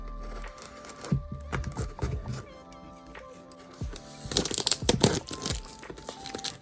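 Bellavena Magic Tip Gel Kit packaging being cut open up close, quiet crinkling plastic, scattered snips and crushing rustles in irregular bursts, busiest near the end.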